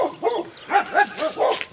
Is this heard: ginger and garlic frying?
no